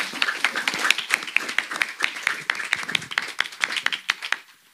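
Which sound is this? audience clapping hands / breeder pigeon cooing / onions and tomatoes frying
audience clapping hands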